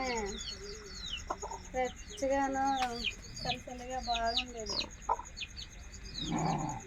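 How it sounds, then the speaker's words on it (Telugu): Hens and a chick cluck and cheep around a village house in the evening, with rapid repeated chirps and clucks layered close by over a steady rural background. "కోడి పిల్ల ఒకటి తల్లిని వదిలేస్తుంది"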